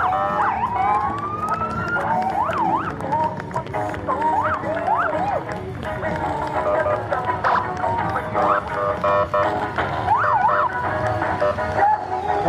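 Sirens on Southwest Rangers vehicles wail and yelp in rising and falling sweeps during a Veterans Day parade, fairly loud and ongoing, with people talking over them and faint hoof clopping in the background.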